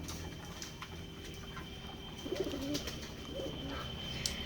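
Pigeons on a pigeon farm give soft, low cooing calls, a short burst of warbling coos midway through, over a faint background hum with scattered light knocks and rustles.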